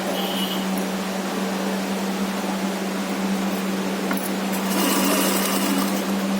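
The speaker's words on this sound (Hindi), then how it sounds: "फिर ये दोनों कपड़े को मैं इस तरीके से जोड़ दूँगी। 1 सेंटीमीटर सिलाई मार दूँगी।" A sewing machine stitches two pieces of cloth together with a steady, close motor hum and fast needle chatter, growing slightly louder near the end.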